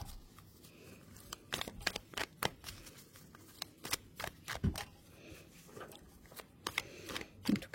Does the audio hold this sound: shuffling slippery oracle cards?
yes